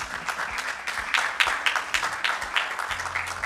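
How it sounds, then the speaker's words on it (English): Audience in a full conference hall at a retail industry event gives a steady round of applause, dense clapping at moderate volume throughout the short stretch. "a huge round of applause for everyone who is present in this hall"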